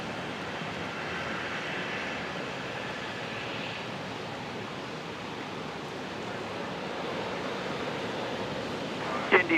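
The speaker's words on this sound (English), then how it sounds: "the Fly Pelican Jetstream 32, rolling, making a full-length departure from Alpha 9" A Fly Pelican Jetstream 32 turboprop rolls for a full-length takeoff on runway 01 right at Brisbane Airport, heard as a steady, broad, distant roar with no break, and a brief sharper bump at the very end.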